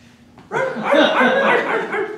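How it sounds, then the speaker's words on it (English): A loose dog barks and yips nearby, a short burst of several sharp barks that starts abruptly and continues for about two seconds with no talk over it. "I think we got a loose dog over there, sir."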